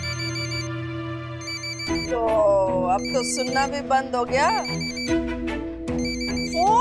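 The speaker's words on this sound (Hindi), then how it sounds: "फोन फोन बज रहा है, उठाओ।" A telephone rings repeatedly in an indoor domestic scene from a Hindi television drama, its bright electronic trill cutting in clearly alongside a woman's speech and a background music bed.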